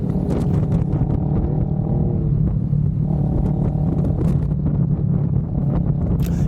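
Motorcycle ridden at night on the road from Togo to Ghana, a steady low engine rumble with wind buffeting the microphone throughout, continuous and close, with no talk.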